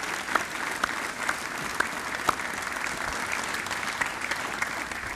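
Audience applause at a military change of responsibility ceremony, steady clapping from a crowd with a few sharper, louder claps standing out, sustained throughout without talk.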